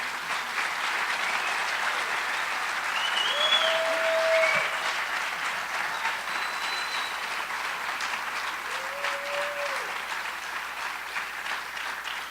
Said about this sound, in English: Let's have another round of applause for these wonderful students.